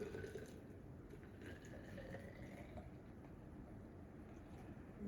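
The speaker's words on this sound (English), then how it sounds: "so we'll pour this out, but we'll pour it back in again too." Liquid, likely homemade alcoholic lemonade, is poured out of a container. A faint, quiet trickling and splashing runs steadily throughout.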